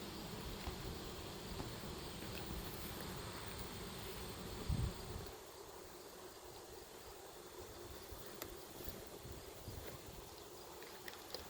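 A dense, steady hum of many honeybees buzzing close up in an open hive during an autumn inspection, continuous and fairly faint, with one brief thump partway through.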